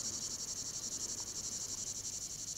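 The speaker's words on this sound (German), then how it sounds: "Nur das Zirpen der Grillen ist hörbar." Crickets chirp in a steady, dense trill across an open landscape by a river in Olympia, Greece, a continuous pulsing chorus with no voices.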